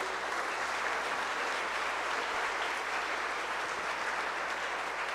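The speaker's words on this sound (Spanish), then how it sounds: "Un aplauso al altar, hermanos." A church congregation applauds the altar during a Nativity Mass, an even, sustained wash of many hands clapping at a distance with no voices over it.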